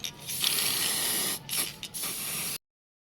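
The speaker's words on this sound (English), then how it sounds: "afterward I sprayed in matte black" An aerosol can sprays matte black paint onto a soldered wire cage for a homemade ESP32 weather station, a close, loud hiss in several bursts with brief pauses before stopping abruptly.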